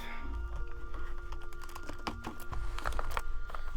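Keys clatter on a full-size computer keyboard with a numpad in quick irregular bursts of close, crisp clicks over a faint electronic hum, with no talk.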